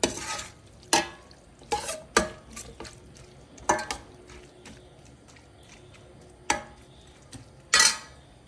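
Chicken being stir-fried in a pan for chicken fried rice: a spatula scrapes and clanks against the pan in sharp, irregular strokes over a faint background sizzle.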